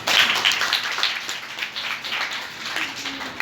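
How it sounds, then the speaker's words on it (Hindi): Schoolgirls at a government girls' school in Gurugram clap for a fellow student, a moderately loud, continuous patter of many hands that holds steady for a few seconds. "इनके लिए ताली बजाना।"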